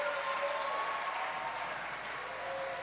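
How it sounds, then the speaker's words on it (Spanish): Audience at a children's festival applauding, an even, moderately loud wash of clapping lasting the whole stretch without speech over it. "Fuerte, fuerte el aplauso"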